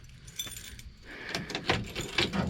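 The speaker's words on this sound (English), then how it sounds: "Of course, now I got to find the keys." Metal keys jangle and clink in short bursts while someone hunts for the right key to a 1970 Ford F250 truck, close by and fairly loud, growing busier toward the end.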